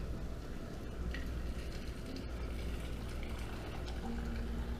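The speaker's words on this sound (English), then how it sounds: "I've got my vinegar, salt, sugar brine all hot and boiling, and I pour it in" Hot vinegar, salt and sugar brine pours steadily into a jar over radishes and other vegetables, a close, continuous liquid rush with a low bubbling undertone and no talking.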